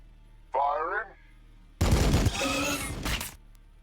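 Gunfire from the Warhammer 40000 Battlesector strategy game comes as a dense burst of rapid shots and impacts after a short synthetic tone, loud and close, with no talk.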